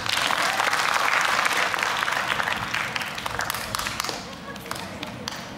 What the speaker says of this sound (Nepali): ताली बजाएर साथ दिनुहोला.